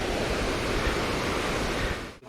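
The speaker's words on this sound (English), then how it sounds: "the river flowing below is the Nangit river" The Nangit river in Sikkim rushes beneath a hanging bridge, a steady, broad roar of flowing water that fills the whole stretch and dips briefly at the very end.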